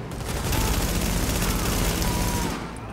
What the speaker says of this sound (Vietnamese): Nó bắn cầm cái shotgun nó bắn.